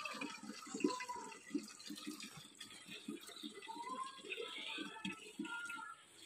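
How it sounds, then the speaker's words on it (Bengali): Water splashing and pouring in irregular bursts while a Rottweiler dog is bathed, fairly faint and close, with soft trickling between the splashes. "আমাদের রকেটকে স্নান করানো হচ্ছে।"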